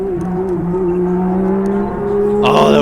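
McLaren Honda MP4/4 Formula One car engine on track, a high-pitched sustained wail holding steady tones, then shifting upward sharply near the end as it accelerates, close and loud.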